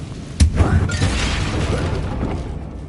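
A Confringo blasting spell explodes in Hogwarts Legacy, a sharp loud burst followed by a rumbling, crackling tail of debris and game ambience that fades slowly.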